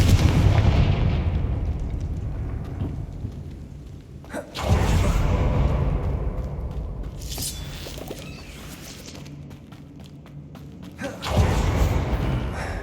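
Confringo fire-blast spell explosions in Hogwarts Legacy on Xbox Series X, heavy booming blasts with long rumbling tails, one roughly every few seconds, loud and close, with no talking during the clip.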